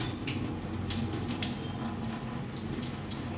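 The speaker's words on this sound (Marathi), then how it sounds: "हळूहळू पाणी काढायचं." Water drains slowly off soaked semolina in a tilted pot, a close, continuous trickle with faint splashes and no talking.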